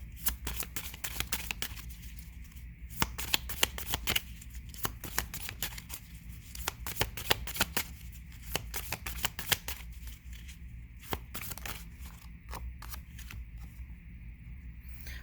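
A deck of angel cards is shuffled up close, a steady run of crisp riffling and snapping card flicks that continues for the whole stretch with no talking.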